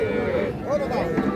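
Calves lowing amid the bustle of a livestock market in Bangladesh, with low bovine calls under the murmur of traders' voices close by.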